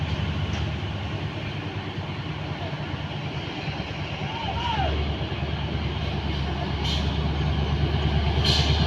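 Two dump trucks labor to climb a steep incline, their engines rumbling heavily and growing louder. A brief squeal and a few hissing bursts sound near the end, and talk is faintly present.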